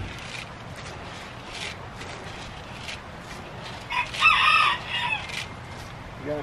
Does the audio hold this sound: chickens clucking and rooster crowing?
yes